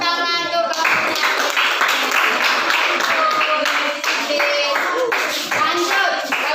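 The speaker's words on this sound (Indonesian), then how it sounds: "beri tepuk tangan untuk kelompoknya" Classroom applause for a student group, with dense, steady clapping from many hands filling the whole stretch, loud and close, with children's voices faintly mixed in.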